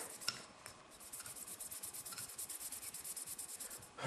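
A handgun's exterior is scrubbed with Hoppe's cleaner, giving a faint, quick back-and-forth brushing rasp that repeats rhythmically for about four seconds with no speech.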